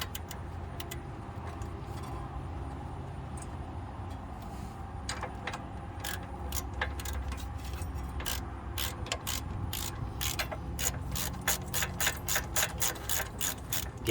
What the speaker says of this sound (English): So it is a 17, and so we're just going to tighten these up